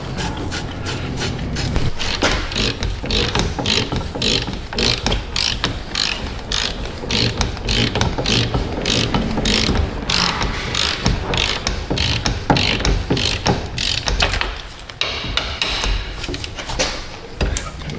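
Repeated ratchet clicking and cranking while wheel bearing bolts are tightened on a Toyota Prius during a rear wheel bearing and brake job, steady and close throughout with short pauses and no talk.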